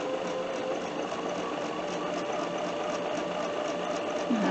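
A Bernina sewing machine runs steadily, stitching through fabric with a dual feed foot engaged, producing a continuous close, even mechanical whir and hum throughout.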